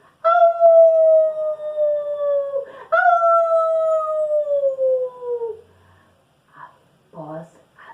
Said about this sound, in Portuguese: uivou para a lua